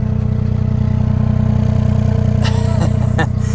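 A 2021 Mini Cooper 4-door hardtop with a 3-cylinder engine runs at a steady, throbbing idle, then gives a couple of quick revs near the end, close and loud with no talking.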